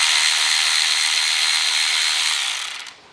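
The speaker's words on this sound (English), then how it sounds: "So now I have my Milwaukee tool. I'm going to be using this to take the nuts off." A Milwaukee power tool runs close and loud in one steady whirring burst while taking nuts off a Golf R engine cover during a spark plug change, then slows and stops near the end.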